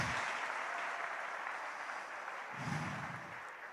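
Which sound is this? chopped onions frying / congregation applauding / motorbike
congregation applauding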